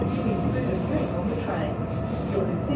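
A Fremantle line passenger train rumbles steadily nearby, with continuous low rail and wheel noise throughout, and people talking over it.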